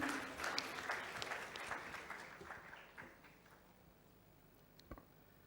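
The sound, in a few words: audience applause at a tech conference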